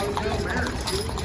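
Hooves of a six-horse team pulling a water wagon in a Wild West parade, a soft, steady clip-clop beneath a voice talking over the street noise.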